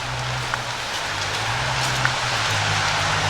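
Rain falls steadily on a forest trail near Bushkill Village, a broad even hiss with a few louder drops and a low rumble underneath.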